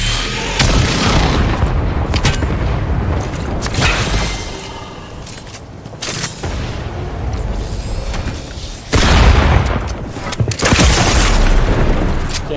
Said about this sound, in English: shoot one of them rockets in the window.